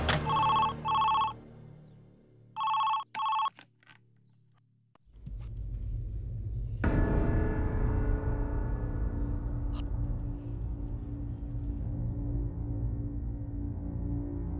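An old-style telephone bell rings in two loud bursts of double rings, then falls silent before a low rumbling hum with distant traffic-like noise fills the rest.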